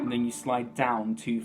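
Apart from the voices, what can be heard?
No everyday noises stand out.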